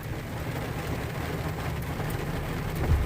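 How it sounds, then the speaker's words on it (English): Steady rain falling on a farm in early morning, a constant soft wash of drops with a faint low rumble, even and moderately quiet throughout. "Raining."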